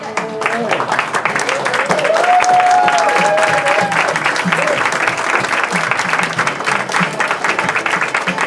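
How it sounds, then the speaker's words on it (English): Loud, sustained applause from a large crowd at an anti-aging and detox workshop, with cheering and shouts mixed in throughout. "Let's give him a round of applause"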